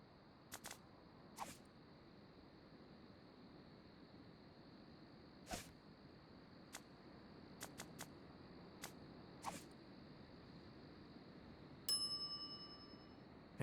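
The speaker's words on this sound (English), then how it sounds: "some idiot's already ringing that stupid bell" A shop counter bell in The Secret of Monkey Island gives one bright ding near the end, ringing out with a short metallic decay. Scattered soft clicks and taps come before it over a quiet ambient background.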